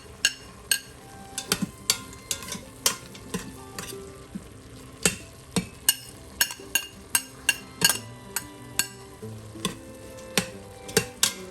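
Ginger and crushed garlic sizzle and fry in a hot Instant Pot, with steady frying crackle under repeated sharp clinks and scrapes of a stirring utensil against the pot.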